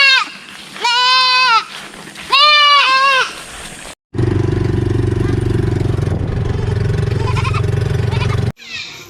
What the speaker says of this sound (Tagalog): So yan, nandito na kami sa farm ni Kuya Riboy. So nandun na yung dalawang kambing.